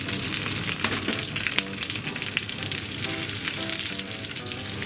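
A leek and potato cheese pancake finished with a drizzle of sesame oil crackles in a pan over high heat, a steady close sizzle with small pops and a faint clink, no voices.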